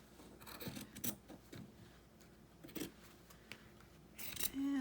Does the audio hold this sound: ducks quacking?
no